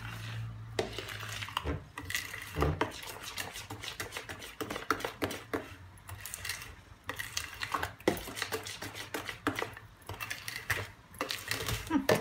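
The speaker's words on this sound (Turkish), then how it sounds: "Şimdi gene kaşıkla karıştırıyorum." A spoon stirs San Sebastian cheesecake batter made with cream in a bowl, giving repeated scraping clinks and taps in an uneven rhythm, close and moderately loud, with no talking.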